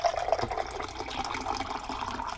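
Water runs steadily from a Big Berkey water filter tap into a container, a soft continuous trickling and splashing with faint drips, fairly quiet and close.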